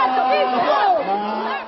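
Opposing protesters clash over same-sex marriage in the Capitol rotunda, a loud crowd chanting and shouting together in rising, sustained cries that echo under the dome.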